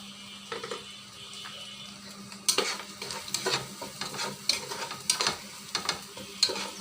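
Fish roe spiced with roasted cumin cooks in a pan while a spoon stirs it, giving repeated scraping clicks over a soft steady sizzle, close and without talk.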